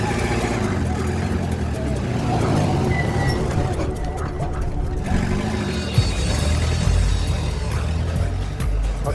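A car drives along at night with a steady engine and road rumble throughout, while people talk excitedly over the vehicle noise as it swings around in a U-turn.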